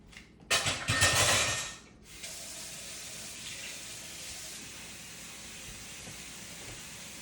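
Cold water gushing from a kitchen tap while making French dip sandwiches, a loud rushing burst for about a second and a half, then a steady quieter hiss of background noise.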